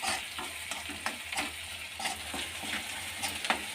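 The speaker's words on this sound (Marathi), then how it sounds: "सुक्क हे बघा मस्त असं परतून घ्यायचं त्याला" Potatoes stir-fried in a pan for a dry potato curry: continuous close sizzling with repeated spatula scrapes and clinks against the metal, no talking.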